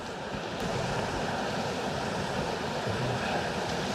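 Steady broadband rush of river water where two rivers meet, a continuous close flowing wash with no talk over it, wind faintly mixed in.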